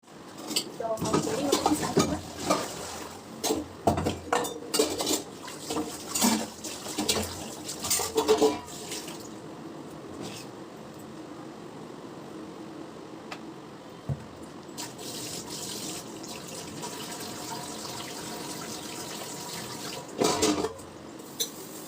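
Dishes and utensils clatter as a pile of pots and plates is washed in a home kitchen sink, with running tap water. The clinks are busy at first and return near the end, and speech is heard now and then.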